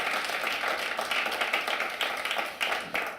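A conference audience applauds at a keynote event, a dense wash of many hands clapping, moderately distant and fairly quiet, with no talking over it.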